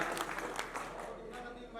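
Applause from an audience at an Urdu poetry mushaira welcomes poet Nadeem Shad, a rippling patter of clapping, fairly faint and mixed with a voice speaking over it.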